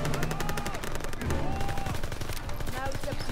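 Dense, continuous automatic gunfire in the Call of Duty video game, with rapid repeating shots throughout, loud and close, mixed with game voices and music.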